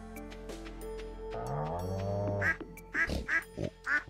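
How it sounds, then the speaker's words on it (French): Ducks quack in Stardew Valley, with about five nasal calls spaced close together near the end over a soft, tonal farm melody. "Trop mignon, les canards."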